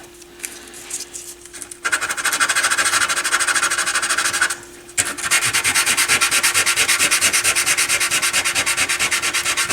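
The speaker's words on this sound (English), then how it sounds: "So let me sand this side and sand the sides of it." Hand sanding of the side of a Technics SL-B30 turntable dust cover makes close, loud, steady rasping strokes that run on continuously, with one brief pause partway through.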